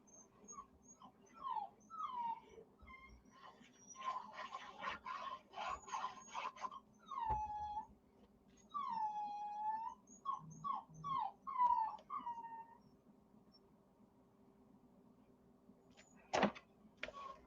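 A male dog whines repeatedly in a studio, a series of high, wavering whimpers and yips in bursts with short pauses, fairly close, with a soft thump near the end.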